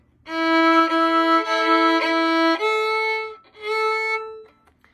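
A violin plays a long sustained note, then steps up to a higher note played twice with a brief break, bowed smoothly and close, starting softer and gradually getting louder.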